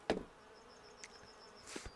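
Bees buzz in a video game about beekeeping, a thin insect drone that holds under short clicks and soft knocks.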